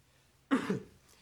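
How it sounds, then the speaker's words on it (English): One brief, gruff throat clearing close by, a short rasp with a rough second push, then quiet. "So, I'm just clearing my throat here."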